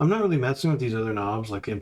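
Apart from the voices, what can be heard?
No everyday noise stands out behind the speech.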